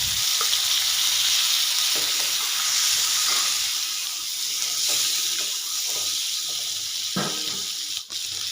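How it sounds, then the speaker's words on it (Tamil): Quail eggs fry in hot oil in a kadai, a steady, close, loud sizzle and hiss crackling continuously throughout with occasional faint stirring knocks and no talking. "இப்போ அதே கடாயில் முட்டையை போட்டு நல்லா வறுத்தெடுத்துடலாம்"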